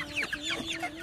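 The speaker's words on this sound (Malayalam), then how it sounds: "ഇതാണ് എൻ്റെ കോഴികൾ കോഴിക്കുഞ്ഞുങ്ങൾ" Appenzeller Barthuhn hens and chicks cluck and cheep in quick, overlapping bursts, close and moderately loud, with a faint steady hum underneath.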